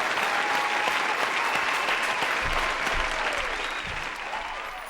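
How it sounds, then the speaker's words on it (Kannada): Loud, sustained audience applause fills a singing reality show stage as a singer is welcomed, a dense wash of many hands clapping that holds steady for several seconds before easing slightly toward the end. "ಜೋರಾದ ಚಪ್ಪಾಳೆಯೊಂದಿಗೆ ವೇದಿಕೆ ಮೇಲೆ ಬರ್ಮಾಡ್ಕೊಳ್ಳೋಣ ಮೋನಿಕಾ ಅವರನ್ನ."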